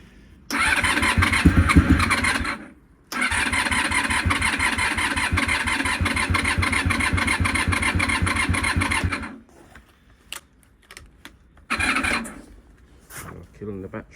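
Honda VFR400 NC30 motorcycle cranked without choke: the starter churns in a long rapid grinding burst, stops, then cranks again for several seconds before cutting out, followed by scattered clicks and a short final crank.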